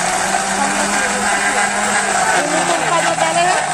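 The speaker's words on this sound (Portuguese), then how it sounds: "Liquidificador, ó." An electric blender whirs continuously and loudly as it mixes guaraná pulp with ice, and voices can be heard over it.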